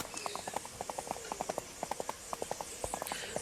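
Rapid hoofbeats from a horse galloping in a horse riding video game, a brisk, even clip-clop rhythm that stays moderately loud and continuous throughout.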